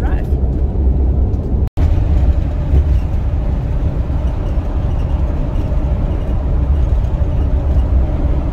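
A van rolling down the road, heard from inside as a steady low engine and road rumble with constant tire noise throughout and a brief dropout early on.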